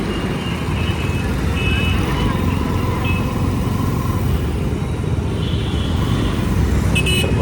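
Road traffic in Kolhapur heard from a moving NS200 motorbike: a constant roar of engine and wind, with passing vehicles and a few brief horn toots scattered through it.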